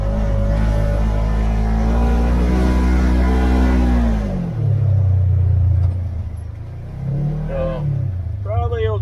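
Riding lawnmower engine rumbling loudly nearby as it drives around a yard, with the pitch dropping and rising as it slows and revs, while someone talks over it.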